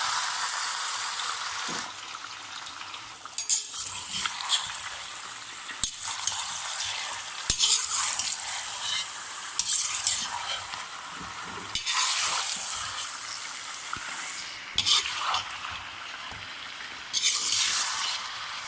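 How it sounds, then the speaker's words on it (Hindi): Chicken sizzling and frying in hot oil for a chicken achari, stirred now and then with a utensil, giving a steady crackling hiss with occasional louder scrapes and clatters, no talking. "ऑयल हमारा गर्म हो चुका है, अब हम इसमें सारा अपना चिकन डाल देंगे।"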